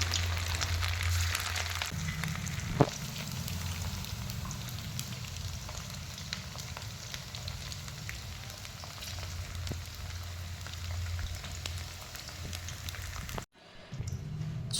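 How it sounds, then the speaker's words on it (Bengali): Marinated chicken pieces frying in hot oil in a wok: a steady, moderate crackling sizzle with occasional sharp pops, continuing evenly and then cutting out briefly near the end. "কড়াইতে তেল গরম হয়ে গেছে, এবার ম্যারিনেট করে রাখা চিকেনগুলোকে ভালোভাবে ফ্রাই করে নেব।"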